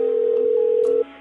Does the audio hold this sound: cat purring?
no